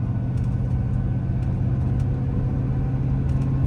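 A camper van engine drones in a low, steady rumble from inside the cab while driving, loud and continuous, with faint clicks on top.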